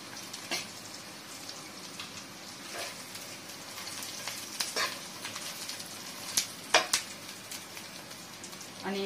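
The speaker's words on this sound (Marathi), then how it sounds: "आणि त्याला अर्धा मिनिट आपण चांगलं फ्राय करून घेऊ।" Slit green chillies frying in a pan for Egg 65, a soft continuous sizzle with a few louder crackles and utensil scrapes near the end, no talk.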